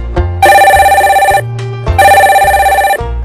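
A telephone rings loudly and close, two long electronic ringing bursts with a steady trill, separated by a brief pause and no talking.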